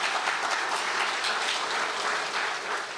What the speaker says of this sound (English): let's give a round of applause for housing